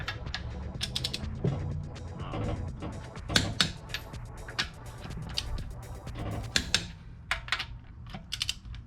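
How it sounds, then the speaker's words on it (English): A torque wrench ratchets a lug nut down on a Volkswagen MK7 GTI wheel, with quick clicking bursts in an irregular rhythm alongside some clanks and handling noise, close by and fairly quiet. "I'm gonna go ahead and torque the lug nut down to 110 foot-pounds"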